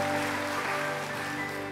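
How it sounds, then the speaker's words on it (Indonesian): A church congregation claps for their King during a Pentecostal-style online worship service, a dense, steady wash of applause sustained throughout with sustained keyboard or organ tones ringing beneath it. "Tepuk tangan bagi Raja kita."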